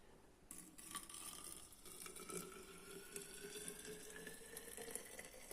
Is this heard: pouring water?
yes